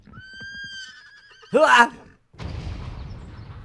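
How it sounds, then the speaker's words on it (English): A horse neighs in a video game with a long, wavering whinny, followed by a loud snort and then a rough, noisy rumble like hooves or movement. "I failed to notice the horse approaching because I was immersed in my own thoughts."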